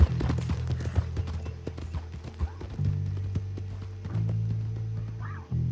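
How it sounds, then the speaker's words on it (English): Steady clip-clop of horse hooves in Red Dead Redemption as a rider travels out in the morning, rhythmic and fairly close over a low droning ambience, with a faint whinny near the end. "as Arthur rides out in the morning sun on his horse"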